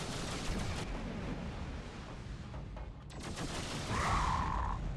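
Fragmentation bomb launchers in the space game X3 Farnham's Legacy boom in a heavy, rumbling barrage, with layered blasts rolling into one another beneath a steady low roar.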